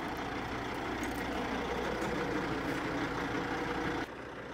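A tow truck from Crossroads Towing arrives to collect a dyno, its heavy diesel engine idling loudly and steadily nearby with a continuous low rumble, then the sound drops off abruptly near the end.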